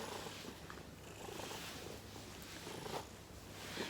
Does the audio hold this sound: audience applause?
no